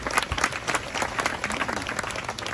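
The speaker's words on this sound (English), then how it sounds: "How about a round of applause for our talking chief?" An audience claps for the talking chief after a Tongan ceremony at the Polynesian Cultural Center in Hawaii, a brief, fairly dense burst of applause with a few sharper claps standing out.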